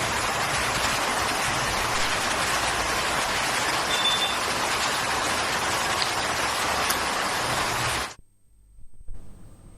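Heavy rain pours steadily across Telangana, a dense, loud, continuous hiss of falling water that stops abruptly near the end and leaves faint low sounds behind.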